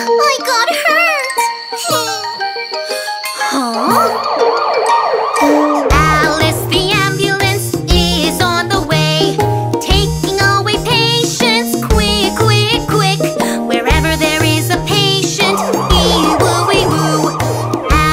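A loud wailing siren rises and falls continuously over busy, bright music with a steady bass pulse, both carrying on for the whole stretch.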